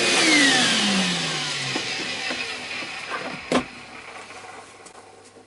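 Dewalt DCV582 cordless wet and dry vacuum picking up dust, a loud whining motor that falls in pitch as it runs, with a brief clatter of debris partway through.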